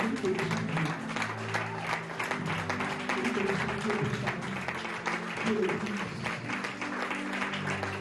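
A church congregation applauding and cheering to acclaim the Lord, sustained clapping from a crowd over roughly eight seconds, mixed with voices and music in a large room.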